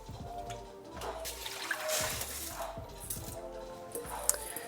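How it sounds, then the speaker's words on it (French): Lentils being rinsed under plenty of water in a kitchen, with sloshing and splashing swirls that rise and fall, plus a faint background voice. "Donc là, il faut bien mouiller à grande eau."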